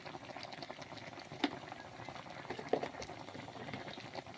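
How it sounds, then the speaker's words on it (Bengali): Mango pickle bubbles in a pan, a quiet soft simmering patter with a couple of sharper pops, close and alone without talk. "দেখুন আমার আচারটা ফুটে উঠেছে"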